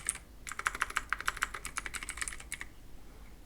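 Rapid keystrokes on a computer keyboard entering a Windows command prompt command, a close, crisp burst of clicking lasting about two seconds, then quiet.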